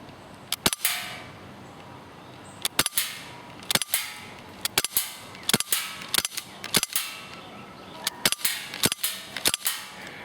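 Umarex Walther P99 CO2 airsoft pistol fired at a target at a range, sharp snapping shots coming one after another in an irregular string with short gaps between them, loud and close.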